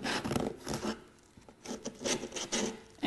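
A small wooden crate being sanded by hand, with rough, rasping strokes in quick bursts, a brief pause near the middle, then more strokes, close up and with no talk.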